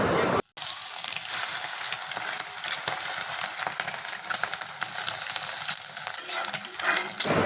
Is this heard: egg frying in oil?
yes